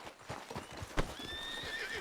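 Horse hooves clip-clop steadily at a moderate distance in the Red Dead Redemption 2 video game, with a brief whinny partway through, fairly quiet and without talk.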